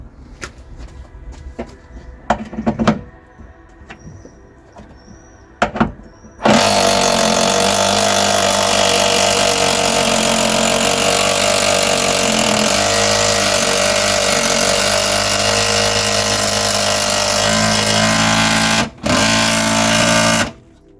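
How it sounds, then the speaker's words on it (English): An impact gun undoes a big 19mm bolt inside the boot of a rusty Ford Puma under repair. A few light clicks come first, then a loud, sustained rattling hammer for about twelve seconds, a brief pause, and one more short burst. "I think it's a 19mm, so I'm going to use the impact gun on it."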